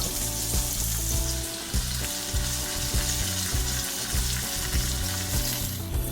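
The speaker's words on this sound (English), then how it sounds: "Mushrooms are getting sauteed. It's gonna go into our omelet." Mushrooms and baby spinach sizzle steadily in a hot pan for an omelette, a loud continuous frying hiss broken by the periodic scrape and clack of stirring.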